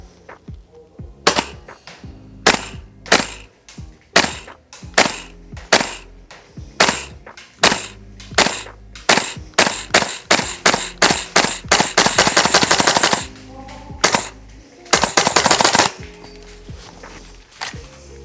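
A Noveske N4 gas blowback airsoft rifle fires at a reactive target 40 metres away, with sharp, close cracking shots: single shots at first, then faster strings and two rapid bursts, and no talk.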